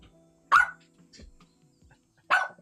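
A dog barks twice, sharp and close, about two seconds apart. Softer yips and small noises fill the quiet gap between the barks.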